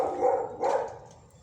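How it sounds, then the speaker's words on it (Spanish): A dog barks twice somewhere outside, a pair of muffled, medium-distance woofs over a low background hum, no talking. "hay un perro ladrando"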